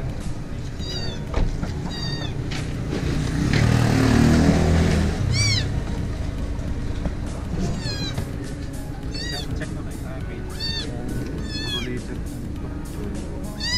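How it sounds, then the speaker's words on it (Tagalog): A cat meows repeatedly in short, clear, rising calls over a steady background hum with some vehicle rumble, the meows spaced irregularly across the stretch with occasional voices nearby. "So, yung pusa."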